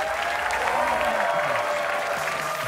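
An audience applauds a contestant at a televised talent show audition, a dense, steady wash of clapping that stays loud and even throughout, with a faint tonal line running beneath it.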